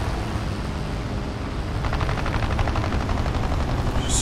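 Aircraft gunfire in War Thunder air arcade: a continuous engine drone, then a rapid rattling stream of machine-gun fire that begins partway through and keeps going to the end.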